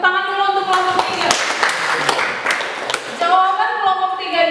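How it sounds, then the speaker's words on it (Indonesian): Classroom students clap briefly for a student group, a short burst of close hand claps set between stretches of talking. "Tepuk tangan dulu untuk kelompok 3."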